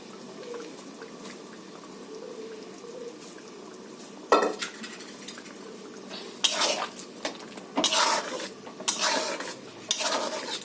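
Boiled potatoes and peas tipped into chicken cooking in a pot for chicken ghugni, a few loud clattering clanks and scrapes of a utensil against metal, coming in uneven bursts over a quiet kitchen background.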